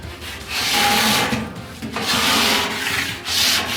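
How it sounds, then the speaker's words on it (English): A two-handed scraper rasps across a stainless steel griddle crusted with burnt sugar and soy, in three long, gritty strokes close by. "I can scrape this, and I'm gonna be scraping down for a while"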